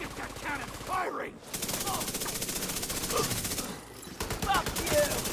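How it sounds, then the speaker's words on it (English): Rapid automatic gunfire and cannon blasts in the shooter game The Division 2, with dense bursts of shots rattling almost continuously and short pauses between volleys. "Get that cannon firing."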